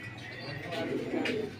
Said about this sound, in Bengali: এখানে দেখতে পাচ্ছেন এক জোড়া ম্যাকপাই কবুতর